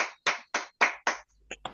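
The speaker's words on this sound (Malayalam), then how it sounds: "എല്ലാവരും ബിഗ് ക്ലാപ്പ് കൊടുത്തേ." A small group at a home song practice claps together in five or six sharp, evenly spaced bursts, close and loud, followed by a few fainter scattered claps.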